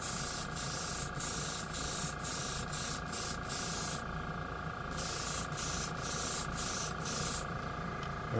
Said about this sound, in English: Look at that, it still pushes it out. Very efficient, this airbrush.